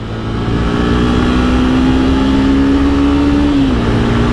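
A 2019 Yamaha FZS V3 motorcycle ridden hard through corners, its engine a loud, continuous close drone at a near-constant pitch that dips slightly at the end, layered over heavy wind rush.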